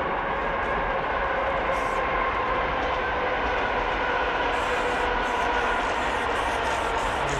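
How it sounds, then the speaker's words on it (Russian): Trains pass in heavy rail traffic, a loud, close, unbroken rolling roar with clattering wheel noise and faint high metallic squeals. "Плотный трафик поездов."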